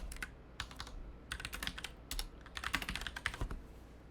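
Typing on a computer keyboard in irregular bursts of quick, light key clicks with short pauses between, fairly quiet and close, with no talking.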